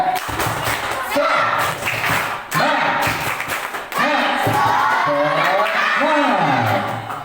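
Children at an elementary school Islamic study session clap in a rhythmic group pattern, sharp thudding claps landing in bursts between loud chanted voices.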